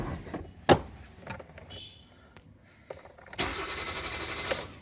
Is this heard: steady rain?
no